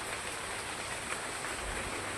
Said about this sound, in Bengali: আর বৃষ্টি পড়ছে, সকালে তো প্রচুর বৃষ্টি